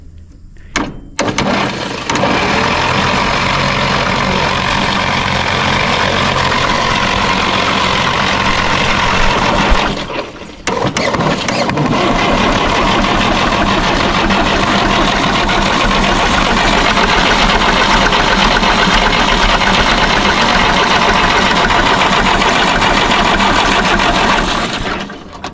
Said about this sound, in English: When I start cranking it and it starts cranking good, you lift that up all the way.